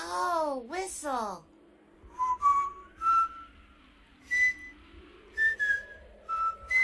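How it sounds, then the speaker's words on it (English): Someone whistles a series of short, clear notes with gaps between them, after a brief burst of a voice at the start. "Oh, whistle."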